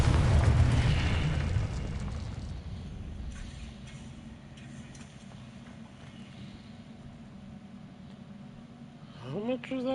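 A loud fiery blast opens a Confringo spell explosion in Hogwarts Legacy, its rumble fading over a couple of seconds into quieter game ambience, with a brief rising magical effect near the end.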